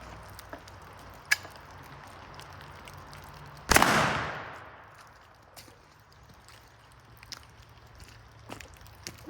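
A single loud boom from a homemade black-powder blunderbuss, fired with a 100-grain charge outdoors, with a long decaying rumble that fades over a couple of seconds, set against quiet ambience and a few faint ticks.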